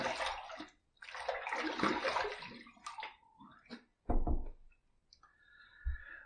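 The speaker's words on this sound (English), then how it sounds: "let's rinse." A tap runs in short bursts to rinse a razor during a wet shave. Splashing water comes in several separate spurts, with clicks and faint gurgles in the pauses.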